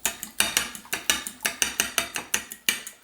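A utensil beats egg, sriracha and beer together in a bowl, giving a brisk, regular run of close clinking scrapes against the bowl, about five strokes a second with no talk.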